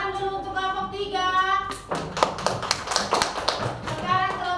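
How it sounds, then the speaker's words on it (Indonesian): Children in a classroom burst into a short round of clapping after spoken instructions from a teacher, with loud, rapid, uneven hand claps and children's voices mixed in, then talking resumes. "Tepuk tangan dulu untuk kelompok 3."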